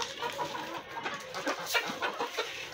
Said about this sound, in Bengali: দেশি মুরগি এই খাবারগুলো খুব পছন্দ করে।